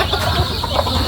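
Chickens cluck and chatter close by while being fed fresh papaya, a short burst of busy farmyard fowl calls with no voice over them.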